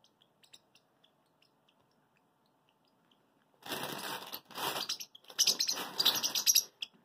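After a quiet stretch of faint ticks, a loud crinkling, crushing rustle of a bag bursts out close by in several harsh pulses near a pet bird.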